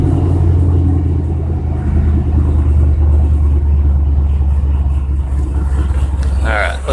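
A Roush Mustang engine idles steadily after a cold start, a deep continuous rumble holding low and loud for the whole stretch, with a faint higher whine creeping in near the end.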